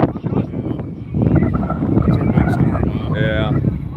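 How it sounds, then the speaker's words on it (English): Wind buffeting a microphone outdoors as a storm rolls in, a loud, steady low rumble with gusty swells throughout, while people talk over it. "It's getting pretty windy."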